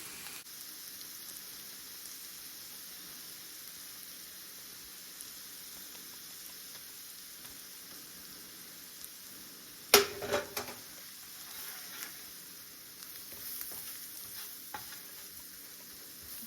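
Flour is stirred into melted butter and onions in a pan, giving a soft, low sizzle with a sharp clatter of the spoon partway through and a few scraping strokes after it.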